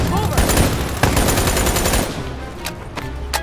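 Sustained automatic gunfire in Call of Duty: Black Ops 3 on PS4, a loud continuous stream of rapid shots that stops, followed by a few sharp single cracks, with a voice faintly underneath.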